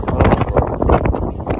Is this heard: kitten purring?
no